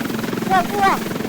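A close helicopter's rotor drones in a rapid, steady throb while a person speaks briefly over it.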